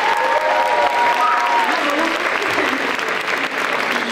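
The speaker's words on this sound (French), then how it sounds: "Applaudissons les jeunes femmes" An audience at a local secondary-school talent show finale applauds the young women performers, a dense, loud burst of clapping sustained for a few seconds with faint crowd murmur.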